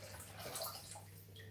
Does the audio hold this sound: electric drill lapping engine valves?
no